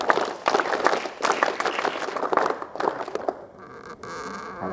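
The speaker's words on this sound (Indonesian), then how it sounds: "Satu kali tepuk pramuka." A group of scouts at a junior high school camp opening ceremony claps together in a burst of dense, overlapping claps lasting several seconds, then it fades into quieter room noise.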